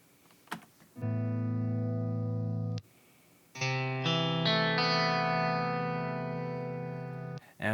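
An electric guitar processed through the STL Tonality Lasse Lammert plugin with delay and reverb plays sustained, creamy chords. One chord rings out, a short pause follows, then a second chord is struck and decays slowly under the echo and reverb tail.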